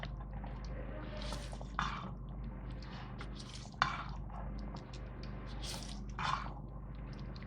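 Black chickpea chaat with coriander and half a lemon's juice being stirred in a bowl, giving soft wet squishing and scraping sounds in a few close bursts over a low steady background hum.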